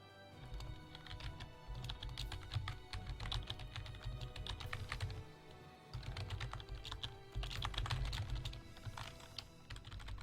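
Quick, uneven keystrokes patter on a computer keyboard in bursts for about ten seconds, close by and fairly quiet, with short pauses between runs of typing and no talking.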